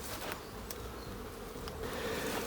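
Honeybees buzzing steadily around an opened beehive during a March inspection, a soft continuous hum with occasional nearer passes, faint and without talk.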